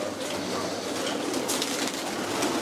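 Racing pigeons coo inside a loft at a one-loft race venue in Texas, with low throaty calls under a steady, busy background hiss and no speech.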